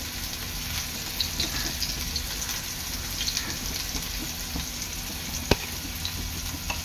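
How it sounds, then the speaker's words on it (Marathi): Bilj fish shallow-frying slowly in a pan over low gas until crisp, a steady, even sizzle with faint crackles and one sharp click near the end, no talking. "आणि बिलज आहे ना आपलं चांगलं स्लो गॅसवर कुरकुरीत तळून घ्यायचं आहे।"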